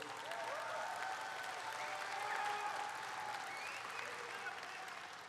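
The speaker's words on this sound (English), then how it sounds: "give Carl a round of applause if you would, please" Convention audience at the 79th CWA Convention breaks into sustained applause, dense clapping from a large crowd, with some cheering and a voice faintly heard through it.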